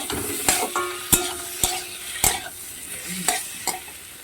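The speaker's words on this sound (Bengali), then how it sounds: "মাঝখানে একটা টমেটোটা আমি ওরকম কুচিয়ে রেখেছিলাম দিয়ে দিলাম" Chopped tomato and green chili frying in a pan, with sharp stirring scrapes and clacks at a regular pace over a soft steady sizzle, close and fairly loud.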